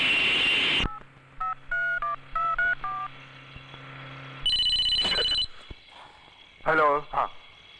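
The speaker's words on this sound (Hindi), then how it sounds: "आपका फोन।" A telephone sounds in a comedy scene set in a hotel, with a burst of electronic tones, a run of beeping dial-like notes and then a shrill ring, loud and close. Brief voices break in between.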